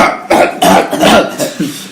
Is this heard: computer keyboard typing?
no